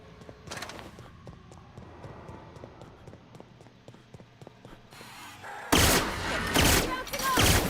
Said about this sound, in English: This machine gun.